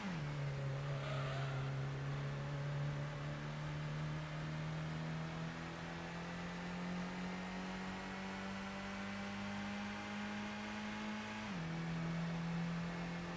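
In the Gran Turismo racing game, a race car engine holds a steady, sustained drone that climbs slowly in pitch. Near the end it dips briefly as the car shifts, then carries on alone and fairly loud.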